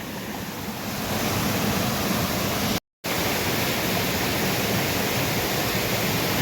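A waterfall in Theth National Park in the Albanian Alps, a continuous dense roar of falling water heard close by with no other sounds, broken only by a brief cut partway through.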